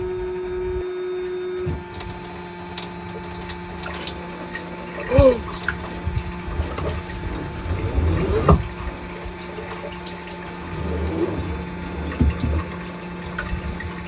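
A steady water pump hum in a camper van kitchen runs underneath as water starts flowing from a tap, splashing and trickling into a basin, with a few clunks along the way.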